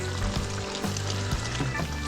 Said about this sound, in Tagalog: Haluin natin ng konti para hindi naman siya masunog.